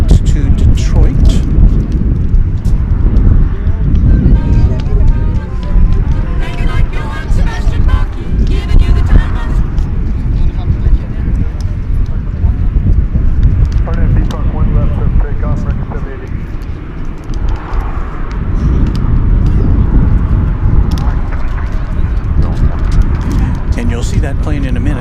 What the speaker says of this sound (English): I believe our next departure is American 788 to Detroit.